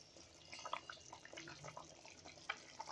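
Mushrooms being rinsed under hot running water from a tap, a quiet, steady trickle and splash with a few brief clinks and louder spatters, heard alone at close range.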